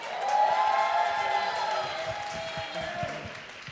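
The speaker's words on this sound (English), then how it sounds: "Let's give a round of applause for Ms." Audience applause fills the room at a community women's honoring ceremony as Ms. Kim Moon is welcomed, a sustained wash of clapping and crowd noise that swells early and then slowly tapers.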